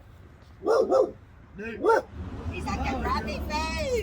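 A dog in a rural Arkansas setting barks twice close by, a short double woof and then another, while someone talks over a busy, babbling background.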